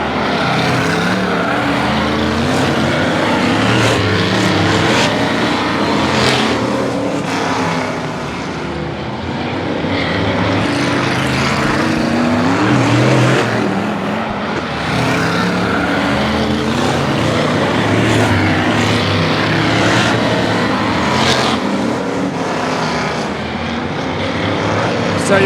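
Race cars lapping Grimley Raceway, their engines roaring as a loud, continuous drone with rising and falling passes throughout, mixed with crowd and commentary noise.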